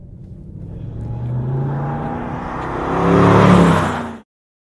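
A 2012 Mercedes C63 AMG V8 accelerating hard: a loud, close engine roar that climbs steadily in pitch and builds to a peak before cutting off abruptly, with no talking.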